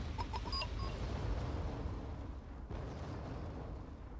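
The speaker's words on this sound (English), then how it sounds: "We are getting hammered by artillery now." Artillery barrages in the video game Wargame Red Dragon, Battle of the Bulge scenario: dense rumbling explosions and distant booms pile into a continuous loud roar, with a few sharper pops at the start.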